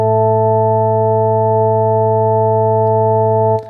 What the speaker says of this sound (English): If I take my sound back to the sine wave for everything